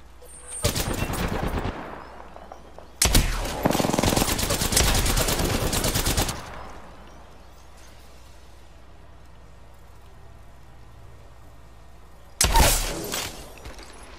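Automatic gunfire in the video game Apex Legends: three loud, sustained bursts of rapid shots, each lasting one to three seconds, separated by quieter stretches of game ambience.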